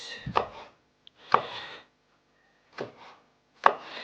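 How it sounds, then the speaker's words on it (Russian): A knife slicing bell pepper into rings on a cutting board, four separate close chopping strokes with short gaps, each with a sharp thud and crunch, heard without talk. "Теперь я нарежу перец."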